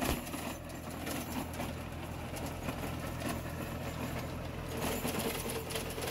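A Farmtrac Atom 26 four-wheel-drive mini tractor with a Mitsubishi engine drives a Shaktiman rotary tiller under load. The engine runs as a steady low, rumbling drone, fairly faint and continuous, with a faint metallic rattle.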